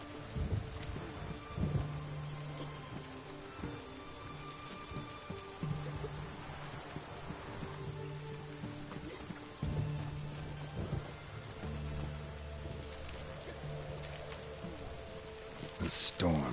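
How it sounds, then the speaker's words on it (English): Steady rain pours through a thunderstorm in The Witcher 3: Hearts of Stone, with rolling low thunder rumbles recurring every few seconds, a sharper crack near the end, and faint voices murmuring beneath the downpour. "The storm, damn it."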